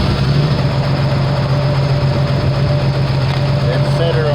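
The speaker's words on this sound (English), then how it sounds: "let me start the engine." A 1987 Ford car engine runs at a steady idle, a constant low hum and drone close by with no change in pitch.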